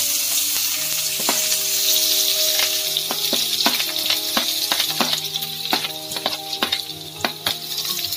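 Chopped onion frying in hot oil with whole garam masala and bay leaf for a Bengali rohu fish curry, a loud bright sizzle with crackling bursts and scattered metallic clinks and scrapes of stirring, no speech.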